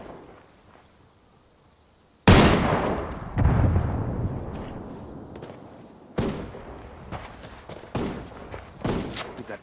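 Loud bursts of gunfire in a military video game firefight, a sharp opening volley followed by repeated shots and decaying echoes, with a brief electronic beep before the shooting starts.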